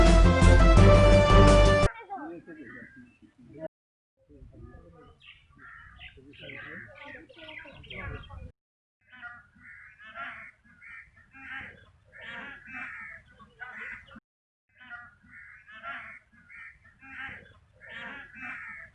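Birds call repeatedly at a wetland where Siberian cranes gather, their cries rising in bursts under someone talking, after a brief loud opening burst.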